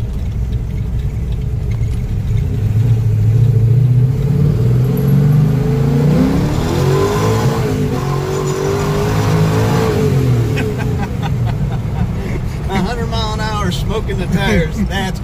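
A 1970 Pontiac GTO with a ram-air tunnel-port 455 on pump gas accelerates hard with smoking tires, its engine roaring loud and close with a rising pitch sweep midway, while people talk over it.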